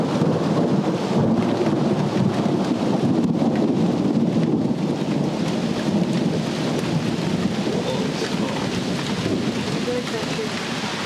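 A summer thunderstorm outside a cabin porch brings steady heavy rain hissing on surfaces, with deep rolling thunder rumbling underneath throughout, loud and close.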